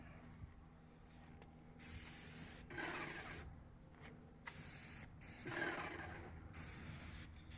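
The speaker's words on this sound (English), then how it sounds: "I'm tilting my gun a little bit. I'm not spraying it like this." Several bursts of paint spray gun hissing while spraying a cabinet door, each a few seconds long with short pauses between, close and loud.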